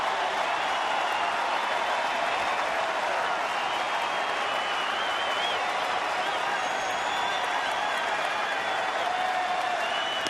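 A baseball crowd at Target Field applauds and rises to its feet late in a game, a dense, continuous roar of clapping and cheering that stays loud throughout.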